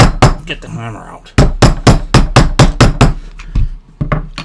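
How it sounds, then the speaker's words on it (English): A hammer tapping a felt base onto a candlestick telephone, a quick series of about a dozen sharp close knocks in irregular rhythm after a brief pause. "get the hammer out."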